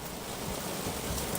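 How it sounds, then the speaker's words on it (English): Steady rain falls during a live commentary stream, heard as a continuous, dense broadband wash of drops with no talking. "it's just raining"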